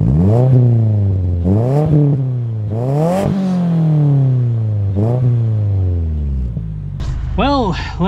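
An off-road Subaru WRX Baja build pulls away, its engine revving up through several gears in rising sweeps, loud and close, before settling as a voice speaks over it at the end.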